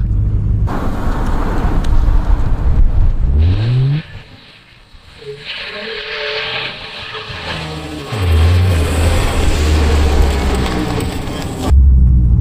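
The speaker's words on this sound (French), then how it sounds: "je vais tourner le volant à gauche et appuyer à fond sur l'accélérateur" A Nissan GT-R on a snowy road on winter tyres, its engine roaring loud and close at full throttle, rising in pitch through the gears with a brief quieter dip midway before surging again.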